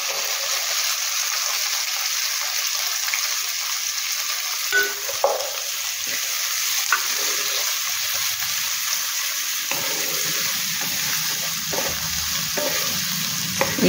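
Onion sizzles steadily in a hot pan alongside ginger and green chilli, with intermittent stirring scrapes and clinks of a spatula throughout, close and continuous with no talking.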